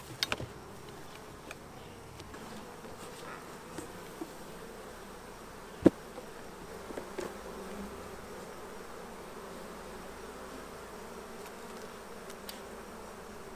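Honeybees buzzing in an opened hive with a 2023 Saskatraz queen, a soft continuous drone of many bees with occasional sharp clicks and handling knocks, no voices.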